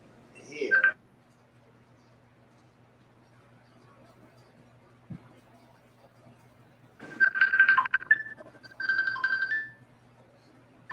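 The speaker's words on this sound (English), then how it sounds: "Like you got blocked out by a phone call." Electronic telephone tones cut in twice, a short beep burst at the start and a longer run of steady tones near the end, breaking into an otherwise quiet room.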